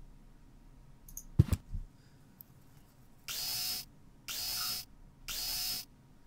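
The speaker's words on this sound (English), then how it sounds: "Ooh, we got a dentist drill." A dentist drill in the Deponia point-and-click game: a sharp click, then three loud, even high-pitched whirring bursts of about a second each, separated by short pauses.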